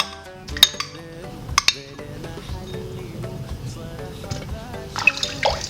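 Eggs, milk and butter being mixed in a bowl for donut dough, with utensil clinks and taps against the dish over soft wet stirring, close and moderately quiet.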